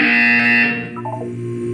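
A loud harsh electronic buzzer in Portal 2 sounds briefly, then cuts off into a few faint tones.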